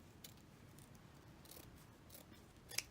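Scissors cut through deco mesh for a dollar-store wreath, a few faint, quiet snips in a hushed room with one sharper click near the end.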